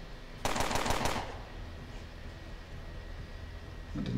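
Short burst of rapid gunfire from a weapon in the video game Underrail, a tight cluster of sharp loud shots lasting under a second, followed by quiet background hum.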